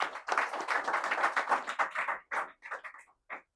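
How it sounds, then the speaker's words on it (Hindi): An audience gives a dense round of applause for a teacher that thins into scattered individual claps before stopping, with no talk over it. "एक जोरदार ताली"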